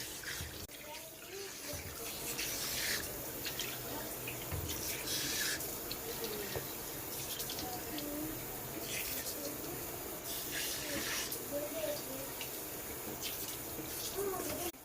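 Water splashes and runs steadily as a face is rinsed clean after a facial, a continuous wet wash with occasional splashes and a voice speaking briefly.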